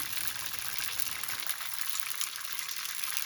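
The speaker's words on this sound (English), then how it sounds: "We might be actually deep frying instead of lightly frying" Dense, steady sizzling and bubbling of dumplings deep frying in hot oil, continuous and fairly loud throughout with no voices.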